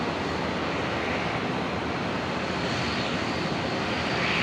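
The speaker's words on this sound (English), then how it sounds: "we're going to catch the toll 737-400 freighter. It's number 2 to arrive on 19 left." A Toll Boeing 737-400 freighter arriving on runway 19 left at Brisbane International Airport, its engines making a steady, loud, broadband roar that swells slightly toward the end, with no talking.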